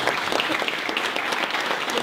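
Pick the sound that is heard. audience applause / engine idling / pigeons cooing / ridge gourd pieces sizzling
audience applause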